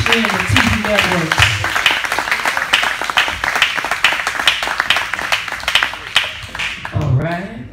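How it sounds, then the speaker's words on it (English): Audience at a live radio station event clapping steadily and densely throughout, loud and close, with a voice talking over the applause at the start and end. "I need y'all to start clapping"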